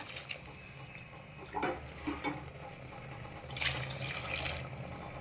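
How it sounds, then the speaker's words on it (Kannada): Water pours steadily into a pot of fried rice for khichdi, several seconds of soft rushing splash that swells briefly near the end, with no voices. "ನೋಡಿ, ನೀರು ಹಾಕ್ತಾಯಿದ್ದೇನೆ"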